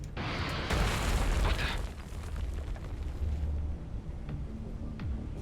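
Missile explosions in the space combat game Everspace 2 land as heavy rumbling booms, a dense burst up front that fades into a lingering low roar with smaller pops.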